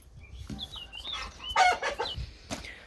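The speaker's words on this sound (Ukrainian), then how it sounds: "Курочка ходить собі спокійно на території." Chickens cluck and call while walking freely around a home yard, a rooster crowing among them, with short repeated clucks and rising calls at close range and no talk over them.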